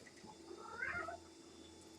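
A single drawn-out cat meow, close and moderately clear, rises and falls in the middle of the clip over quiet indoor room noise, with no speech.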